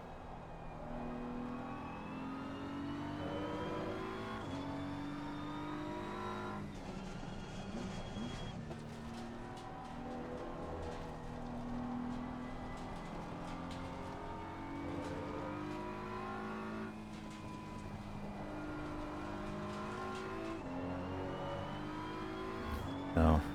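A BMW M4 GT3 race car in Assetto Corsa Competizione drones steadily at moderate revs throughout a lap, its engine note rising and dropping with gear changes while a person talks over it.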